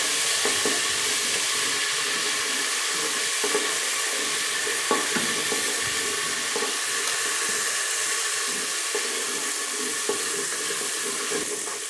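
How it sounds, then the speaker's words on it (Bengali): Two spoonfuls of ginger-garlic paste fry in a Geek Robocook pot, giving a steady, even sizzle throughout with scattered light taps and scrapes of stirring close by. "এবারে আদা রসুনটাকে একটু ভেজে নেব"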